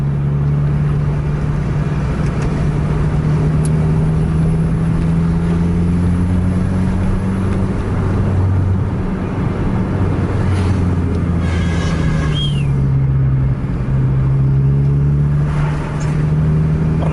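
A Volvo truck engine passes on the road, a loud, steady low droning rumble whose pitch dips and shifts midway as the vehicle goes by close, with no voices.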